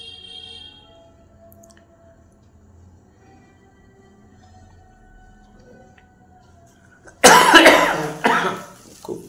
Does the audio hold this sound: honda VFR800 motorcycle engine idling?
no